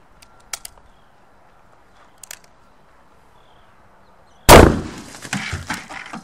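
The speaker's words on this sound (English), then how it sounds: "see what happens when the 460 round goes up against a watermelon" A single loud shot from a Smith & Wesson .460 XVR revolver into a watermelon, a sharp blast with a ringing, scattering tail, after a few faint clicks in near silence.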